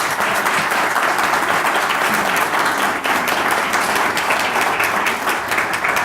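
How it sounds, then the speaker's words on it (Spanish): An audience at a university talk gives dense, continuous applause for presidential candidate Marta Lucía Ramírez, many hands clapping steadily and loudly throughout. "Por favor, un aplauso para la candidata."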